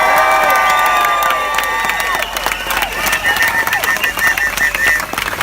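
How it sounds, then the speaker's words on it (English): A large crowd at an anti-hunting protest march in London breaks into loud applause and cheering, with shouts and whistles on top and the clapping continuing steadily. "let's give a great round of applause to everyone that's here today"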